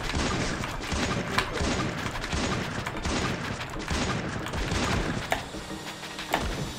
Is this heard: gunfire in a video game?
yes